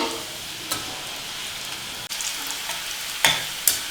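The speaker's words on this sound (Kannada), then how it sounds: "ಈ ರೀತಿ ಚೆನ್ನಾಗಿ ಕ್ರಿಸ್ಪ್ ಆಗೋವರೆಗೂ ಎಣ್ಣೆಯಲ್ಲಿ ಮಧ್ಯ ಮಧ್ಯ ಮಿಕ್ಸ್ ಮಾಡ್ತಾ ಫ್ರೈ ಮಾಡ್ಕೋಬೇಕು" Bitter gourd pieces deep-frying in oil, a steady crackling sizzle with a few sharper clinks and scrapes as they are stirred now and then.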